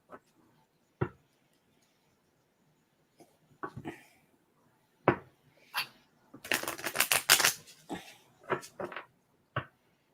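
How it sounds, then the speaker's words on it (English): Past life oracle cards being flipped and handled on a table, with isolated soft taps and slaps early on, then a dense burst of rapid shuffling riffles in the middle, followed by a few more single card flicks. "I'm gonna flip the past life cards"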